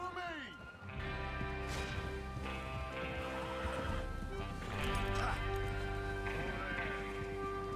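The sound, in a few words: horses riding out in Red Dead Redemption 2 video game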